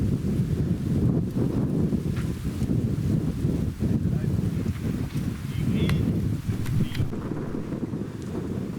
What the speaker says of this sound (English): I really didn't want anything to do with this wind.